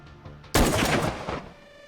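Gunfire in a tactical shooter video game, a sudden loud burst of shots with a sharp onset after a quiet lead-in, then a fading rumble.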